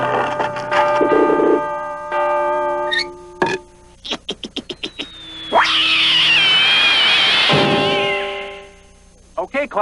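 A cartoon cat yowls in a long, wavering, rising and falling howl amid a busy mix of animated sound effects and short plucked musical notes.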